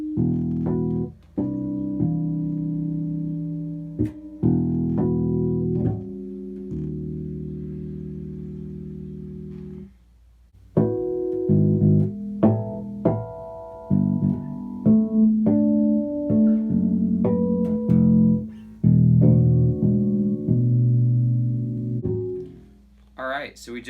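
Bass guitar harmonics and fretted notes ring out as a sequence of sustained, bell-like chimes, each sounding alone and decaying, with brief gaps between phrases and no talking.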